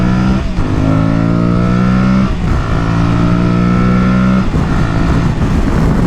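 A 2023 Aprilia Tuareg 660 motorcycle accelerates onto a highway in heavy rush-hour traffic, its engine revving loudly through rising gear pulls with brief dips at the shifts, heard close up alone.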